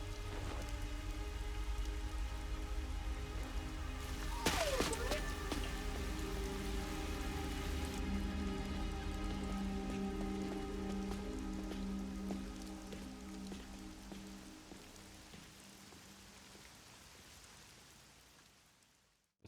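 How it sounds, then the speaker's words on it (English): Rain falls in the video game Master Detective Archives: Rain Code, a steady soft patter on surfaces that fades gradually toward the end, with no voices. "It's raining."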